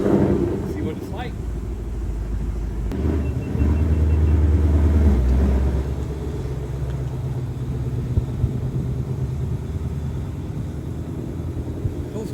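A 2024 Mustang GT engine rumbles on a dyno roller with a steady, throaty drone that swells for a few seconds in the middle before settling back. People talk nearby throughout.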